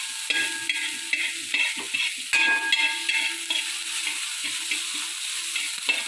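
Chopped banana flower and white beans roast in a hot pan, stirred in a brisk repeated rhythm of close scraping strokes over a continuous bright sizzle.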